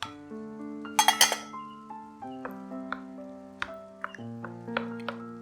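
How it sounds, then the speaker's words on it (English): Metal utensil clinks repeatedly against a bowl while egg foo young ingredients, eggs and diced char siu, are stirred together, with a cluster of sharp, bright taps early on followed by spaced, ringing strikes. "Mix all these really well."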